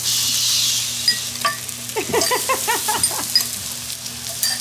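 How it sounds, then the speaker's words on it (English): Steady crackling sizzle of onions in a hot pan, with stirring scrapes and light clatter close by, continuous throughout. "hot pan. We're gonna throw a couple tablespoons of onion in there"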